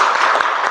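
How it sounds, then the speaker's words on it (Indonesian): Classroom applause for a student presentation group, a short steady burst of many hands clapping at close range with no talk over it. "tepuk tangan dulu buat kelompok 2"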